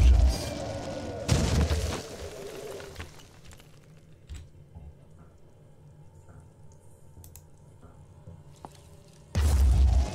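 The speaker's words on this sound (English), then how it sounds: "And it's time for even more explosions." Explosions in the tactical video game Phoenix Point: a loud booming blast at the start, another heavy burst after about a second, then quieter game ambience with faint clicks before a final loud boom near the end.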